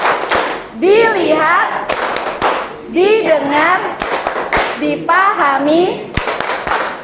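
A class claps the short Indonesian 'tepuk fokus' rhythm during a teaching session, several sharp group claps landing between stretches of children and a teacher chanting together.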